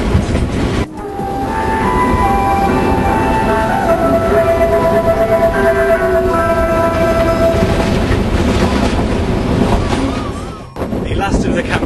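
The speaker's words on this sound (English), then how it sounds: "The last of the Cambodian trains all the way to Battambang, and a mere 20 kilometres an hour, so you can easily outrun it." A slow Cambodian passenger train on the line to Battambang rolls past at about 20 km/h, a loud continuous rumble of wheels and carriages with screeching tones, close by and steady for most of the clip, with some voices underneath.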